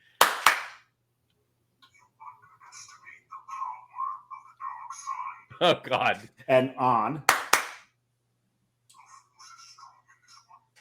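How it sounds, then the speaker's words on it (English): Hand claps switching a Darth Vader clapper on a Christmas tree, a sharp pair of claps at the start and a loud double clap later, with people talking quietly in between. "I do have the Christmas tree on a clapper."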